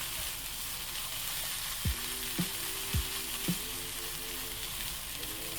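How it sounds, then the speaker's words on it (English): Coconut flakes sizzle steadily as they brown in a pan, with a continuous frying hiss broken by a few soft knocks and scrapes from stirring. "you just need to keep stirring until it turns brown"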